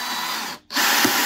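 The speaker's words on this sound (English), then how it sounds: "then we'll try again to drive one of our fixings into place" A DeWALT cordless drill with its clutch set to 15 drives a fixing into place, a steady close whirring cut by a brief gap as it stops, then a fresh burst of whirring.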